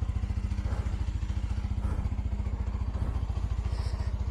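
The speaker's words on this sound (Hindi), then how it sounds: "बाइक को थोड़ा गर्म होने दो, उसके बाद निकलते हैं सफ़र की ओर" A Yezdi Adventure motorcycle idles while it warms up, its engine thumping in a fast, steady, even rhythm close by, with no one speaking.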